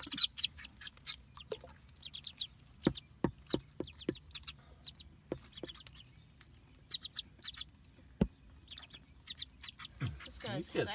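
Baby ducklings peep in rapid high chirps on their first swim in water, close and repeated in bursts, with occasional louder calls and someone talking softly at times.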